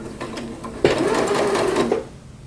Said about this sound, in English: Lower that presser foot and then try to stitch an equal amount across to the other side.